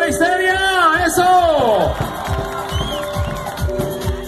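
A festival crowd at a rural beauty pageant cheers and whoops loudly, with voices over the hubbub of a large outdoor audience, and the noise stays close and lively throughout.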